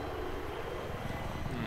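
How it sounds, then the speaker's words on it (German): Helicopter flying overhead in the Battlefield 3 video game during a Conquest match, a steady low rotor and engine drone sustained throughout with no speech. "der Heli müsste ja irgendwo noch rumfliegen."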